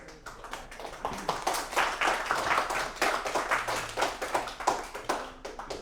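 An audience at a rules clinic applauds, a steady, moderately loud patter of many hands clapping that holds throughout and then thins toward the end.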